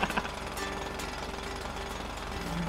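Steady mechanical hammering of a jackhammer drilling in the video game GTA 5, a continuous rapid pounding rattle at moderate level with no talk over it.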